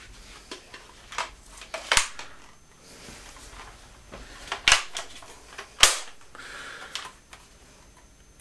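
Several sharp, snappy toy dart blaster shots fire one at a time at irregular intervals during indoor target shooting, close by, with quiet clicks and handling noises in between.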